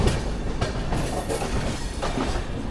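Tamil Nadu Express 12622 rolling along just after leaving New Delhi: a loud, continuous rumble of wheels and carriages with faint rhythmic clatter over the joints and no voices.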